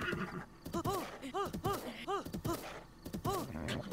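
A horse whinnies several times in Zelda: Breath of the Wild, each call a rising-and-falling neigh repeated at fairly regular intervals over a busy background of game sounds and low rumble.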